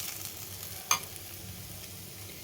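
Ivy gourd fries in a pan with a spiced sesame-style powder, giving a soft, steady sizzle with one brief sharp scrape of stirring partway through, quiet and close with no talking.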